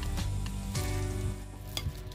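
Spiced potato mixture for egg chop stirred in a pan, a steady close sizzle with scraping and stirring strokes running through it and no voices.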